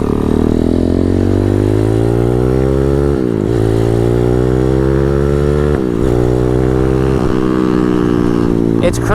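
A 212cc CT-70 custom trike engine revs loudly and continuously, its pitch climbing and dipping between throttle blips, with brief drops around the gear changes.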